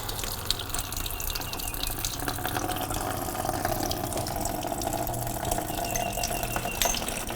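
Coolant drains from the water pump of a 2004–2007 Honda CBR1000RR motorcycle, a steady close trickle and splash of liquid into a container that runs without a break.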